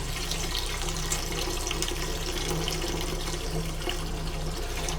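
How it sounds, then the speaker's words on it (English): Steady rushing water pours continuously into a pot at close range, an even splashing flow with no talking. "I'm also adding 4 cups of water to my pot"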